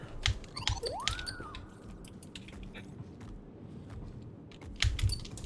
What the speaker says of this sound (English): I'm pressing literally every button on my keyboard for him to let this damn thing go.